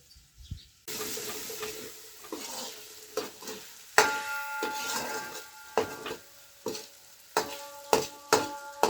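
Potatoes and peas fry in a pan with a continuous sizzle, broken by repeated scraping stirs at a steady rhythm, close and clear with no talking.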